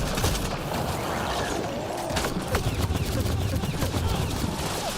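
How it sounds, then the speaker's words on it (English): Gunfire from behind the player in the sci-fi shooter Mass Effect: Andromeda, a steady clatter of rapid shots with scattered sharper cracks running continuously over dense game noise. "Actually, who's behind me shooting?"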